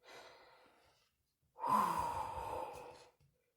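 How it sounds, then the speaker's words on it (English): A voice takes a deep breath: a soft airy inhale, a brief pause, then a longer, louder breathy exhale close to the microphone that fades away with no words spoken. "Nightmare took a deep breath."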